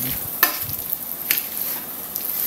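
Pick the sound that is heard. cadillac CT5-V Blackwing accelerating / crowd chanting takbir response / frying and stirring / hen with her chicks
frying and stirring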